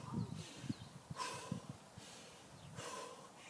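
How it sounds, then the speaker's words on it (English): A man breathing deeply in and out in a P.E. lesson with hands behind his head, several slow rhythmic breaths with soft snorting exhales, close and fairly quiet. "breathing in and out, taking deep breaths"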